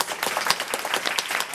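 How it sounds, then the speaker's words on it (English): A crowd at a San Francisco community college campus event applauds Nancy Pelosi with brief, dense clapping, loud and close, and no voices over it. "So, one more round of applause for"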